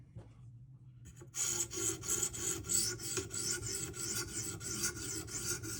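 Rhythmic rasping strokes of a Spyderco Para 3 knife blade on a sharpening stone, the burr coming off, starting after a brief quiet moment and continuing steadily, close up.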